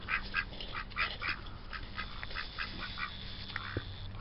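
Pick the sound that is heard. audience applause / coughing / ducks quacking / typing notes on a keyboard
ducks quacking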